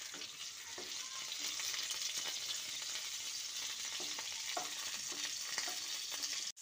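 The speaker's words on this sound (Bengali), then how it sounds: "সব দিক উল্টে পাল্টে লালচে করে পটলগুলোকে ভেজে নিতে হবে।" Pieces of pointed gourd (potol) fry in hot oil with a dense, even crackling sizzle, broken by soft stirring clicks, close and continuous without any speech.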